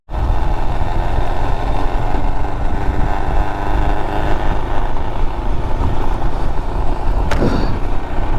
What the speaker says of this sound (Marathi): गाडीचा आवाज आहे चालू झालेला आहे खडखड खडखड